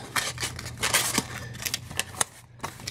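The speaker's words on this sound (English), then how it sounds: "we can fold one of these boxes up and have a look-see" A small cardboard Absolute Carnage art comic box is folded up by hand, producing a quick series of close, crisp creases, scrapes and taps in an irregular rhythm.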